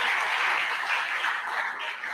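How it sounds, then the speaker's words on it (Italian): Steady audience applause fills a hall at a Sardinian sports awards ceremony, a dense, even wash of many hands clapping with no voices over it. "Eccolo là, un applauso anche per il direttore Zucchi"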